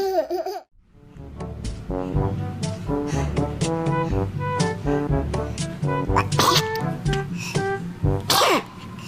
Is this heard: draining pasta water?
no